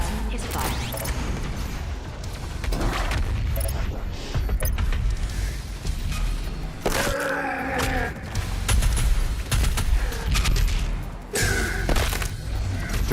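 BFG 10,000 firing in DOOM Eternal, heavy layered game booms and mechanical rumbles with sharp bursts and thuds, loud and continuous, mixed with other game effects.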